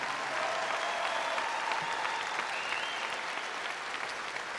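A graduation ceremony crowd applauds steadily, dense clapping filling the space at a consistent, moderate level throughout.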